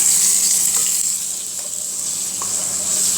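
Chicken fries in a pan with a steady, bright continuous hiss and a few faint clinks, no voices.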